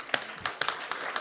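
Sparse, fairly quiet handclaps from an audience at a presentation, about seven separate sharp claps spread unevenly over a second, with no voices.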